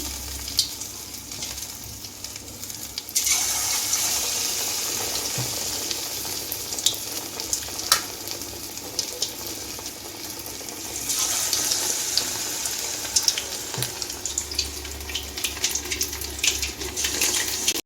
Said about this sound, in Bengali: রুটি মাছের পকোড়া ভাজার জন্য আমি কড়াইতে সাদা তেল দিয়ে গরম করে নিয়েছি আমি এখন একটা একটা করে পিস তেলে ছেড়ে দিচ্ছি